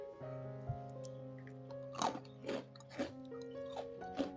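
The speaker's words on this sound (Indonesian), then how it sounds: "Tuh, dengarkan teman-teman gimana renyahnya biji ketapang ini." Crunchy roasted ketapang (tropical almond) seed snack chewed close up, with several sharp, crisp crunches spaced about half a second apart over a steady low hum.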